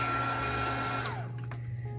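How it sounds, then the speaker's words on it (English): A hot-air embossing heat tool blows steadily, a loud whirring fan drone that cuts off partway through, leaving a lower hum and a couple of faint clicks. "This is my dryer. It's the one for embossing, so it gets pretty hot."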